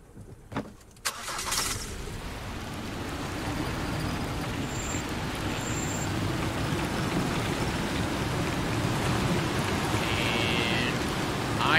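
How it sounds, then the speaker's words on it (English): In the game AirportSim, after a few clunks and a burst of noise, steady rain patters continuously and fairly loudly, a dense even hiss with a low rumble underneath. "I think it's raining."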